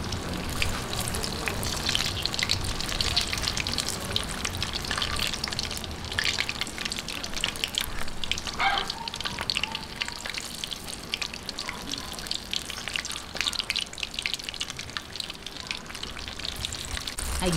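Sugar caramelizing with bananas in a hot pan for a banana snack, giving a steady, close sizzle and bubbling crackle that runs throughout without talk.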